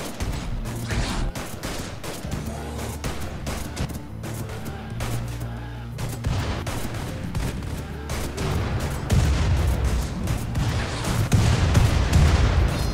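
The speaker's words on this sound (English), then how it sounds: "that was a really big explosion" Grenade explosions in the Rimworld video game, a steady run of sharp bangs and booms rattling off in quick succession, growing louder and denser toward the end.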